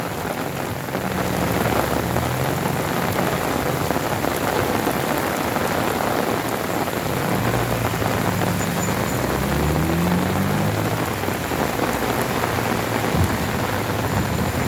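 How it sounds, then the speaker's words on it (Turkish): Heavy rain pours down on a flooded street in Antakya, a dense, steady hiss of water striking the pavement, with faint low traffic rumbles underneath and no voices. "Yağmuru çekeyim dedim arkadaşlar."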